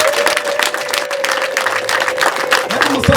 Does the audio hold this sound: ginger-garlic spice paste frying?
no